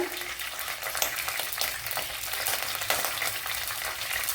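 Mustard seeds and fenugreek frying in hot oil for a Kottayam-style fish curry, a steady close sizzle with faint crackles and pops throughout, no voices.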